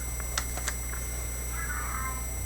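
A cat meows faintly once, a soft drawn-out call partway through, over steady low background hum.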